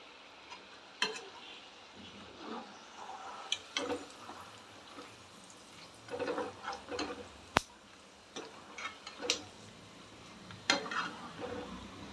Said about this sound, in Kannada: ಎಣ್ಣೆಲಿ ಸೌಂಡ್ ಬರೋ ತನಕ ನೀವು ಕಾಳನ್ನು ಉರಿತಾನೆ ಇರಬೇಕು.